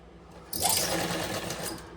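A domestic sewing machine stitches a seam in a tailoring class, a steady close whirring run that starts abruptly and continues to the end.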